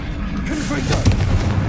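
The Confringo blasting spell goes off in a Harry Potter video game as a loud, sustained rumbling blast with a deep low-end roar and a noisy crackle that swells and lingers.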